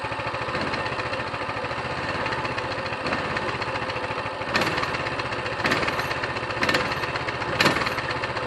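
A Coleman CT200U-EX mini bike's small engine runs steadily after one pull, a loud, continuous buzzing idle with a few sharper bursts of revving near the end, no talking over it.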